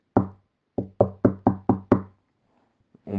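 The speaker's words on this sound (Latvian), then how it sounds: "Pie pūces viņa klauvēja atkal kā parasti" Knuckles rap on a wooden door: one knock, a pause, then a quick run of five firm knocks, loud and close in otherwise quiet surroundings, with a faint bump afterward.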